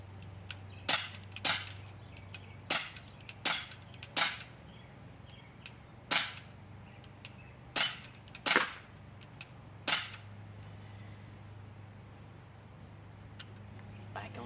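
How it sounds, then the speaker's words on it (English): A Crosman 1911BB CO2-powered BB pistol fires about ten sharp, snappy shots in quick irregular succession, loud and close, over a low steady background hum. "Give this thing a couple of shots real quick."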